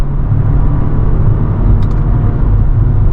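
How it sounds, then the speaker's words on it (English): A 2025 BMW 330i engine drops a gear through the left paddle shifter, heard as a steady, loud low rumble from inside the cabin with a brief faint blip partway through. "I'm going to press the left paddle shifter here to downshift."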